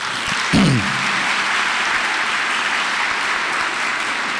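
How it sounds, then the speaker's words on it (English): Sustained audience applause at a panel discussion on prison reentry continues evenly throughout, with a brief louder thump near the start. "Give her a round of applause."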